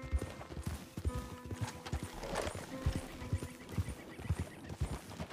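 Horse hooves clip-clopping in a steady trotting rhythm with a brief whinny midway, from Red Dead Online, moderately close and fairly quiet, with no talk over it.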